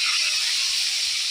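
Milkfish (bangus) fries in hot oil, giving a steady, bright hiss of sizzling that holds even and close throughout.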